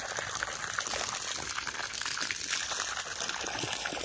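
Water runs steadily from a tap to fill a bath, a continuous gushing splash close by, unbroken and moderately loud with no talking.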